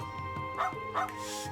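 A dog barks in the video game Trails into Reverie, two quick, close woofs over steady background music, with no one talking.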